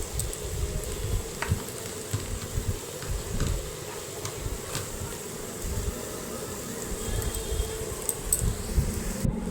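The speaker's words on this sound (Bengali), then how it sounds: "চার পাঁচ মিনিট আমি ভালো করে এটা একটু ভেজে নেব" A khichuri mixture with green chillies, salt and turmeric fries in a pan, giving off a steady, close sizzle that holds an even crackling hiss the whole time, with no talking.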